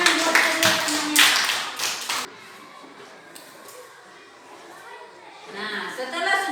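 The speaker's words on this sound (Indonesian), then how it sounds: "tepuk tangan buat teman-temannya" A burst of lively clapping from schoolchildren in a classroom, cheering on their classmates, fills the first couple of seconds before fading into murmured chatter. Scattered claps and voices pick up again near the end.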